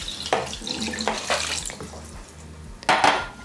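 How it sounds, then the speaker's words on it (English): Water being poured into a cooking pot while making birria broth, with a few clanks of the pot and a splashing rush near the end, moderately close with no talk. "And we're gonna use 2 pints of water."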